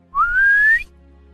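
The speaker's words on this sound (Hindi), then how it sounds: "लड़के फटे हुए कपड़े देखकर सीटियां मारने लगे।" A single loud rising wolf whistle from boys in a Hindi story, about three quarters of a second long, sliding upward in pitch and heard alone.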